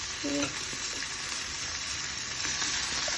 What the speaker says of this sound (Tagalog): I love Mommy cooking the bacon for my omelette